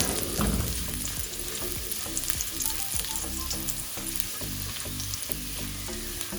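Sliced garlic cloves fry in hot oil with a dense, steady sizzle. Frequent sharp clicks of stirring cut through it, close up with no talk.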